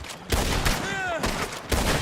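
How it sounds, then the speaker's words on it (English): Bursts of machine gun fire in a video game with a wagon and an enemy machine gunner, loud rapid rattling volleys broken by short pauses, with a whistling tone in the middle. "we got that machine gunner there"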